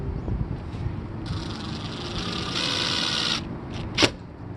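Screws driven in with a power driver while a MaxxAir roof fan is installed in a Mercedes Sprinter camper van, one brief whirring run of about two seconds over a low background hum, followed by a short sharp clack.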